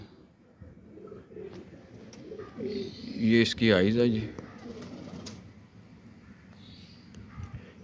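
Teddy pigeons coo softly in soft repeated phrases while someone speaks close by over them.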